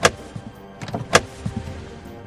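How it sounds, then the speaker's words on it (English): Sound-effect rattling of a doorknob, a few sharp metallic clicks and jiggles at irregular intervals, close and moderately loud against a quiet background. "The only response was the constant rattling of the doorknob."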